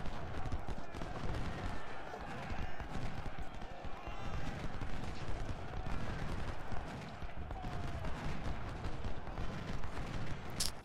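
A Civil War battle in the video game Ultimate General: Civil War, with a continuous din of scattered musket and rifle gunfire, thudding hoofbeats and distant booms, all layered into a busy, rumbling field.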